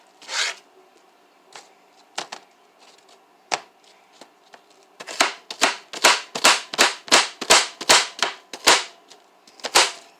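A knife cuts food on a cutting board in a home kitchen, a few sparse taps at first, then a quick run of about a dozen crisp, close chops in steady rhythm.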